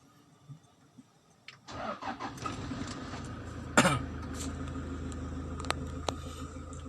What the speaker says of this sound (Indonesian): Saya hidupkan mesin dulu untuk biar terkoneksi.